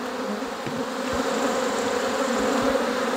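A swarm of honey bees drones at an open kitchen hive, a close, sustained buzzing hum that swells slightly, with a few faint bumps and taps from handling and no speech.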